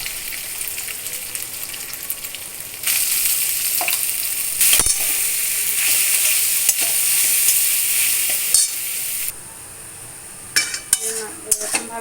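Soybean mince frying in a pan with whole cumin seeds and grated ginger, stirred with a spatula: a steady loud sizzle with scraping strokes against the pan and a few sharp utensil clinks near the end.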